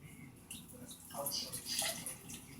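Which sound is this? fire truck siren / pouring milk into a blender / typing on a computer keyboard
pouring milk into a blender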